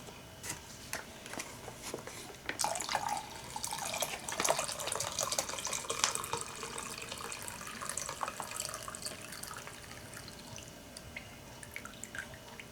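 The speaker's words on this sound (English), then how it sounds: "Let's strain the water off these noodles now." Water pours and splashes as cooked noodles are strained in a kitchen sink, a steady running rush with drips, louder in the middle and tapering off toward the end, with no talking.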